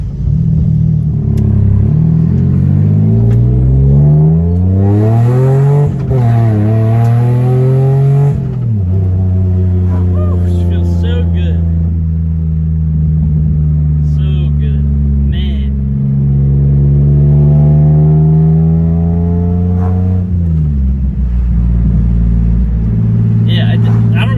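A loud Mitsubishi Eclipse engine revs up and down repeatedly during acceleration pulls, rising in pitch and dropping back, heard close from inside the car.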